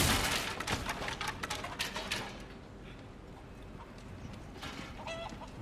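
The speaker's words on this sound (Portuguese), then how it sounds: "Tem uma galinha aqui dentro, cara." Chickens cluck inside a building in the Resident Evil 4 Remake video game, with dense scratchy bursts over a busy game background for the first couple of seconds, then quieter scattered clucks.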